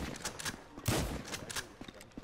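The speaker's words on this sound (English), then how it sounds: "do you hear my gunshots?" Gunfire in Grand Theft Auto V, including an AK-47, as several sharp shots in quick succession with one heavier blast near the middle, followed by fainter scattered pops.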